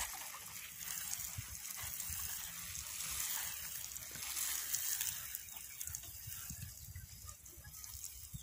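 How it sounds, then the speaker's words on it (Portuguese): A garden shower hose sprays water onto vegetable-patch soil, giving a steady hissing, splashing wash with low rumbling underneath, continuous and moderately close throughout. "meu esposo jogou três chuveiros de água, né? Desse chuveiro de molhar a horta"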